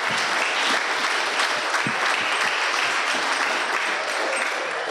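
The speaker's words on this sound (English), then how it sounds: "we want to give our mayoral candidates a round of applause" A crowd at a community candidate forum gives a round of applause for mayoral candidates, dense continuous clapping filling the room throughout, loud and close with no voices over it.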